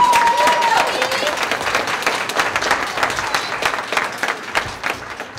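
Crowd at an MLK march gathering breaks into loud applause and cheering, dense clapping that gradually thins and becomes more scattered over several seconds.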